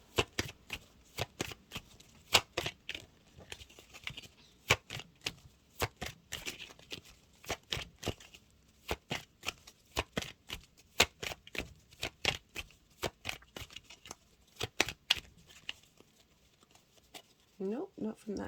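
A deck of tarot cards being shuffled by hand, with crisp, rapid riffling slaps repeating in an uneven rhythm close up, continuing steadily throughout.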